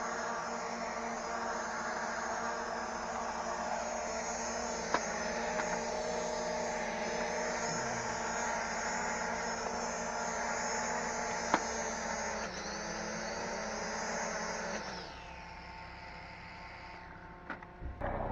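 Small XS 812 toy drone motors straining at full throttle, a steady, loud, close buzzing whine with a constant high-pitched hum that holds for about fifteen seconds, then drops off sharply and leaves only faint clicks.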